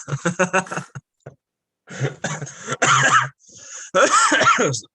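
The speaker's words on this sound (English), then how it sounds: "So you're making me cough" Several harsh coughs in quick bursts from a nearby person, mixed with short bits of speech and throaty sounds.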